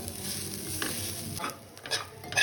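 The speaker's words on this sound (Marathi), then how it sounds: "त्यामध्ये आपण मिक्स करणार आहोत किसलेलं खोबरं, हे पण आता भाजून घ्यायचं आहे." Grated coconut roasting in a pan gives a soft dry sizzle with several scraping stirs of a spoon, close but fairly quiet.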